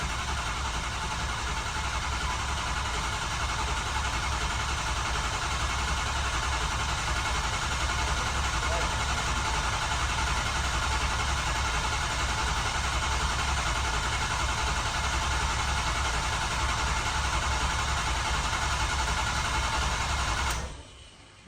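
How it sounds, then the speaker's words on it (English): Starter motor cranking a Ford 6.0 Powerstroke diesel that won't start when hot, a steady continuous whirring drone held for about twenty seconds before cutting off abruptly. "Give that starter a break for a second."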